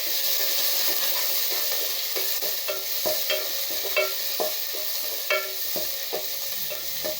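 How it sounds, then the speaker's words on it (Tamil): Onions, tomato and curry leaves sauté in a pan for an ash gourd buttermilk kuzhambu: a steady close sizzle runs throughout, broken by scattered clicks and scrapes of stirring. "வெங்காயம் போட்டுட்டு ஒரு வணக்கலாங்க. அப்படியே தக்காளி போட்டுடலாங்க. கருவேப்பிலை போட்டுடலாங்க."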